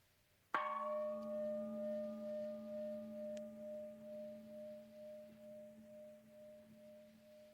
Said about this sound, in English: If you, for example, simply listen to the gong,